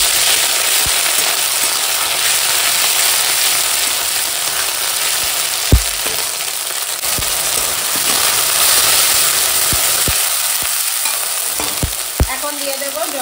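A paste of cumin, ginger and garlic frying with onions in hot oil gives a loud, continuous sizzle. Occasional sharp knocks from a spatula stirring the pan break through it, and no one talks.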